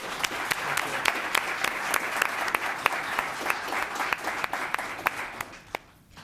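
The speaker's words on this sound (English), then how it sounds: "Let's give him a round of applause." An audience applauds at a town council meeting, a steady crowd clapping with sharp individual claps standing out, then trailing off abruptly near the end.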